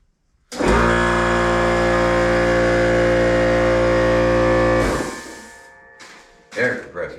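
A rebuilt Chevy 350 Vortec V8 with a carburetor choke fires up and runs at a loud, steady idle for about four seconds, then cuts off, followed by a couple of brief knocks.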